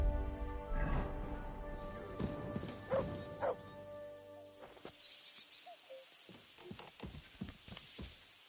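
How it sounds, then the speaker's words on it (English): A pet dog barks in a series of short, sharp yaps, some close and loud, with clattering knocks and thuds around them in a quiet room, and someone talking to the dog in places. "You silly doggy."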